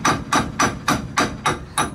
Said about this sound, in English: Using the flat side of the hammer on purpose because it will not dent quite as easily.